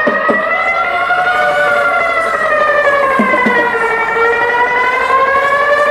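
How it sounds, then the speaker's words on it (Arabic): A police siren wails loudly and continuously nearby, its tone sweeping up and down in a slow steady cycle, with no talking over it. "فلقى بالليل صوت بوليس"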